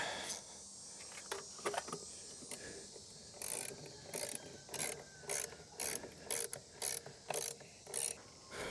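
Ratchet clicking as half-inch nuts are tightened on a John Deere 2653A mower, starting with sparse scattered clicks and then settling into a steady run of close, rhythmic bursts, about two per second, with no talking.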